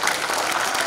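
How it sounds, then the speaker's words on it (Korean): An audience at a constitutional reform debate forum claps for a speaker who has just finished, a dense, steady burst of many hands applauding together, loud and close, with no speech over it. "우리 전현기 논설위원님께 뜨거운 박수 보내주시기 바랍니다"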